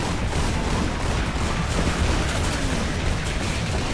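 Gunfire from big weapons in the arena shooter Toxikk, heard as a dense, steady barrage of crackling shots and blasts with a low rumble underneath.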